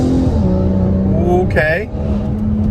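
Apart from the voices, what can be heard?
modified Volvo accelerating at wide open throttle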